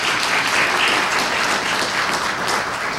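An audience at an environmental awards ceremony gives a press secretary a steady round of applause, dense even clapping from a full room lasting throughout.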